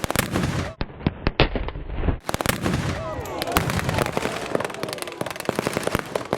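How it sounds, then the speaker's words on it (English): A World War II reenactment artillery gun fires a high explosive round at a Dover event, with sharp, loud bangs and rapid crackling reports echoing over faint background voices. "Half left. Enemy infantry. One round, high explosive. Fire when ready."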